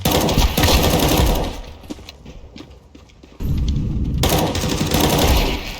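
Rapid automatic gunfire in Counter-Strike, loud dense bursts of shots that pause briefly midway and then resume, with game noise throughout and no clear talk.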